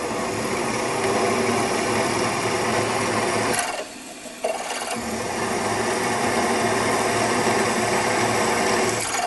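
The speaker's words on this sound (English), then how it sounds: "Okay, so that's the last one drilled." Power drill boring stud holes into metal, a loud continuous high whine that cuts out briefly for about a second before restarting and running steadily again.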